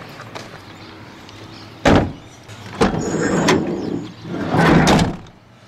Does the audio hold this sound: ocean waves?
no